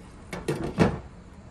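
A few quick clattering knocks, ending in a single firmer clunk like a lid set down on a pot, close and brief.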